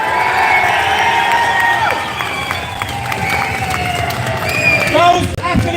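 A large outdoor crowd outside Custom House in Dublin cheers and claps, a roar of voices and shouts with applause, loud and sustained throughout.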